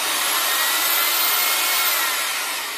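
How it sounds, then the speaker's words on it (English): Drilling over the bolt of a chainsaw, a steady, loud, continuous grinding whine with no pauses and no talking. "Drill over your bolt and don't drill into your oil line, which is right next to it."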